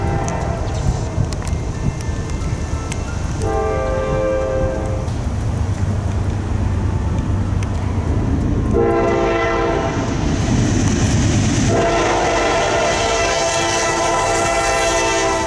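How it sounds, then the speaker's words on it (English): A Norfolk Southern freight train roars past close by through Chesterton, with heavy rumbling and rattling wheels and a horn blaring in repeated blasts. "Hearing the roar of the NS train as it rushed through Chesterton was truly chilling"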